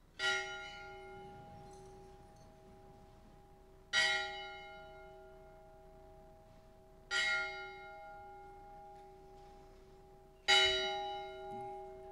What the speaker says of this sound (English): we observe in silence the ringing of the bell